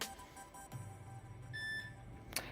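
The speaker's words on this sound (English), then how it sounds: "It'll make a beeping sound to say it's ready." A single steady electronic beep tone from a drone controller during compass calibration sounds briefly over faint background hum, followed by a short click.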